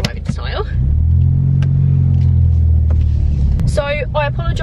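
A car fitted with a Scorpion exhaust pulls away, its deep engine drone rising and holding loudly for a few seconds before easing off as a voice speaks over the end.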